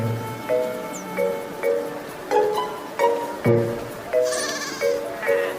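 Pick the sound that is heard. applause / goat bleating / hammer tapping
goat bleating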